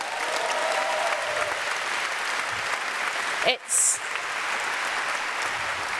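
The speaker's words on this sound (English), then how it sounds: "give her a big cheer, please." An awards-stage audience applauds and cheers steadily for a top distributor at a company event, a dense, continuous wash of clapping with a short dip in the middle.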